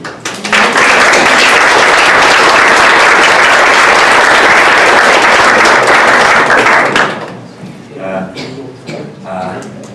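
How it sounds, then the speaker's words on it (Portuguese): A conference audience bursts into loud, dense applause that holds steady for about six seconds, then tapers off into scattered claps and voices at a lecture on dyslexia. "Podemos aplaudi-la?"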